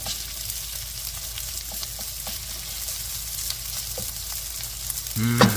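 Rice warms and fries in a pan for spicy garlicky Singapore fried rice, a continuous close sizzle with occasional stirring scrapes and a louder clank at the end.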